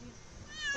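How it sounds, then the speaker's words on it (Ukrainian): Several cats rescued during an evacuation under shelling let out a short meow near the end, briefly rising over a background of low noise and voices. "Скільки у вас много котиків?"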